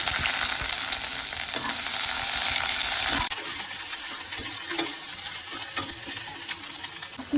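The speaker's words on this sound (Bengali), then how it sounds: "কড়াইয়ে দিয়ে দিচ্ছি তেল বানানোর জন্য, স্যুপটা বানানোর জন্য দিয়ে দিচ্ছি আদা রসুন বাটা" Ginger garlic paste fries in hot oil in a wok, giving a steady, bright sizzle that drops abruptly partway through and then settles into a softer, crackling fry with a few clinks. No one speaks.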